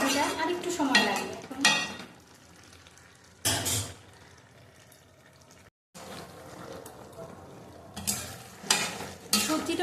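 Mixed vegetable curry simmers in a pan with a little water while a spoon stirs it in several bursts of scraping and clinking against the pan, over a soft bubbling sizzle between strokes.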